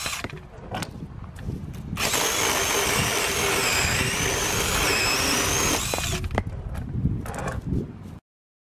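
A power saw cutting firewood into small pieces, running steadily for about four seconds as a loud whining cut between quieter idling stretches, close to the listener with no talk.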